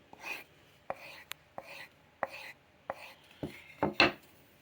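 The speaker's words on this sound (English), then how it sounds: "but you can hear it going over the leather." Knife blade stropped on a leather strop with light pressure. About eight soft, brushing swipes come in an even rhythm, close and quiet, ending in a louder final stroke.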